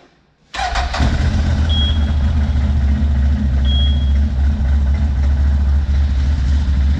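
A CF Moto 1000cc quad's engine cranks and fires up after a brief quiet moment, then settles into a steady, loud, close idle with a deep rumble that holds for several seconds.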